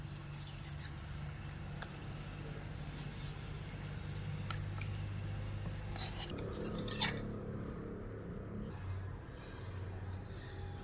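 Knife and spoon scrape aloe vera pulp from the leaf, producing faint, close, intermittent scratching and wet scraping strokes with small clinks, quiet and irregular throughout.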